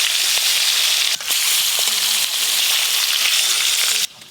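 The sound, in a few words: koi fish frying in hot oil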